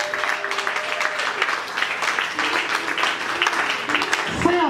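Loud applause fills a church congregation during a worship service, dense and sustained for several seconds, with a voice and some tonal sound rising above the clapping near the end.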